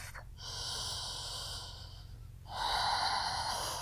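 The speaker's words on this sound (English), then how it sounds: "Take 1 more breath." Slow yoga breathing: a long, close, airy inhale or exhale, a brief quieter pause, then a stronger breath that rises in loudness, all without talk.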